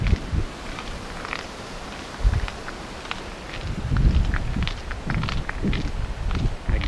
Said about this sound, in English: The grounding noise you're hearing is the cleats of my bike shoes on the cement path.